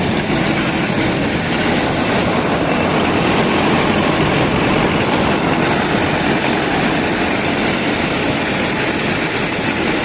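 Combine harvester engine running at idle during a soybean harvest in the field, a loud, steady, dense mechanical drone that stays constant throughout, up close, with no voices.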